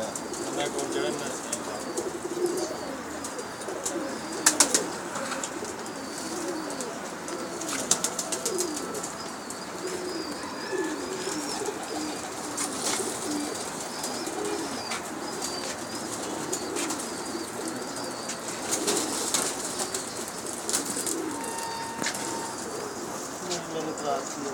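Pigeons on a rooftop loft make soft cooing calls with occasional bursts of wing flapping over a steady outdoor hum, while people talk nearby throughout.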